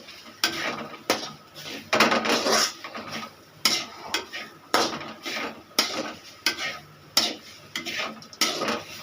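Grated coconut sautéed on a low flame, stirred with a utensil scraping the pan in steady rhythmic strokes, each a short rasping burst, close and moderately loud with no talking.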